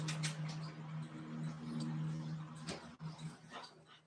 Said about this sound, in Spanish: Lo voy a hacer entrar a mi perro que está ladrando